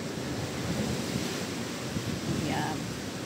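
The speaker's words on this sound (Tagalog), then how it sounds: "Hindi ako makatulog kasi lakas ng ulan at hangin." Heavy rain and strong wind from Typhoon Uwan heard from an upstairs room at night, a dense constant roar of rushing air and pouring water with no breaks.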